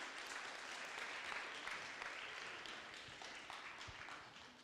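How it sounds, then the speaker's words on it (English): Audience applause as speakers return to the stage at a Dubai talk event: steady, even clapping from a crowd, moderately distant, tapering slightly toward the end. "Can you give them one more round of applause?"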